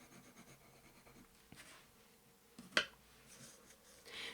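Blunt pencil shading on paper, soft scratchy strokes in uneven bursts, faint and close, with a sharper scrape partway through.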